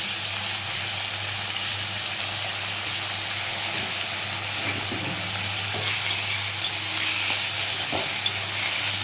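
Salted onions fry in a pan with a steady, close broadband sizzle, joined by occasional soft stirring scrapes and small crackles, with no voices.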